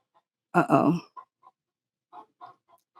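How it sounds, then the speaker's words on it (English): A chicken clucks indoors inside a house, one loud burst of several clucks followed by a few softer, scattered calls close by. "My chicken's indoors."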